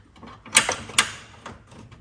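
A part on a 2015 Chevrolet Silverado is pushed straight until it locks, giving two sharp clicks close together, then a fainter click, with no talking.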